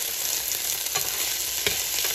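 Eggplant and peppers sizzle steadily in a hot pan with a bright, crackling hiss, broken by a couple of soft stirring scrapes; no one speaks.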